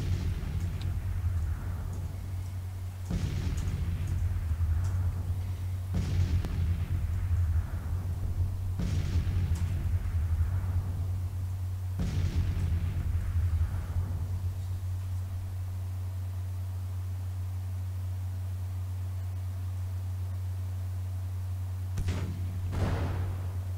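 Artillery in Grand Tactician: Civil War booms at intervals of a few seconds, each a deep distant thud with a fading rumble, over a constant low drone.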